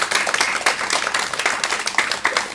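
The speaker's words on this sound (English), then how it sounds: "So I give them a round of applause because." Conference audience applauding together, a steady dense patter of many hands clapping throughout at moderate loudness with no talk over it.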